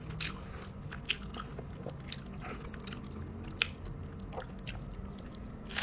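Someone bites into and chews a Dubai chewy cookie up close, with soft squishy and crunchy bites at irregular intervals in a quiet room and no talking.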